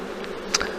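Honeybees hum at an open hive during a September apiary inspection with syrup feeding, a steady close buzzing drone with a brief sharper tick partway through.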